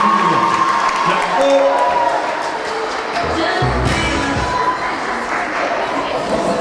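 Audience applause and cheering at a dance show competition fill the space with a dense, steady crowd roar, mixed with overlapping chatter and voices throughout.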